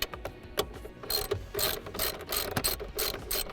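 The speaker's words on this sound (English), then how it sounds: "now that I've exposed the 10mm bolt here, I'll get my 10mm ratchet" A 10mm ratchet undoing a bolt on a car's interior trim, heard as quick bursts of close, crisp clicking with short pauses between strokes and no talking.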